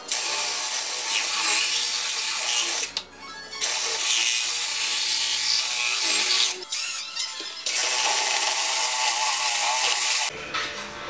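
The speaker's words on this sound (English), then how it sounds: "take our drill bit and drill right in here through the bushing" A power drill bores through a rear trailing arm bushing and the aluminum plate behind it on an E36, with long loud sustained whining bursts broken by two short pauses and a final stop.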